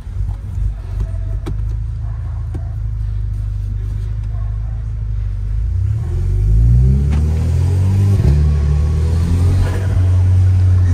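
A Volkswagen Jetta tuned to Stage 3 with a flutter valve fitted pulls away from a workshop, its deep steady idle rumble swelling into a rising rev as it drives off, loud and close, likely heard from inside the car.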